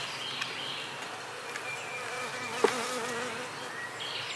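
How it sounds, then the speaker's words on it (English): Honeybees hum steadily around an open beehive as frames are worked, a continuous close buzz with individual insects drifting nearer and farther. "But I do see bees up here."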